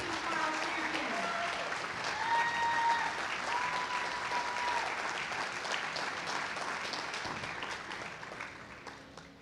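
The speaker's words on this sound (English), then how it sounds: "how about another great big round of applause for our U.S. Henderson team, our team trial champions" Sustained applause from an audience at the 2017 U.S. Amateur bowling stepladder finals honoring the team trial champions, steady and dense throughout, with a few brief tonal sounds rising above the clapping.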